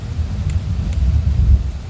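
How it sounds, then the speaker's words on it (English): A low, loud rumble of thunder rolls through a storm, with steady rain hiss beneath it throughout the short stretch. "Big thunder."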